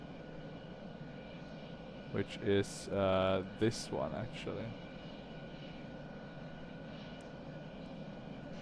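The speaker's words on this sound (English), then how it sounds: "this is a turbojet engine, so that's cool" The MiG-21Bis turbojet engine drones steadily in the Prepar3D flight simulator as a continuous low roar in the cockpit, while someone speaks briefly over it.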